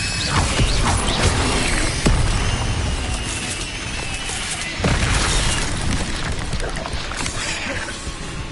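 Incendio fire spells cast in Hogwarts Legacy, with whooshing, crackling bursts and creaking, booming impacts over dense continuous game noise.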